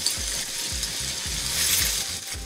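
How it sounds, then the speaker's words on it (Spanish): Garlic frying in a pan, meant for beef quesadillas or crispy tacos: a steady broadband sizzle with a rhythmic scraping, like stirring, running through the whole stretch. "Voy a dejar que se doren un poco más mis ajos."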